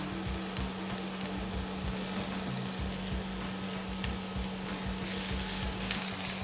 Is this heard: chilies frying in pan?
yes